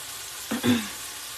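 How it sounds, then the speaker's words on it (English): Butter hitting a hot pan where turkey burgers are cooking, a short sudden sizzle that flares briefly and fades against a quiet background hiss. "I'm adding a little butter over here."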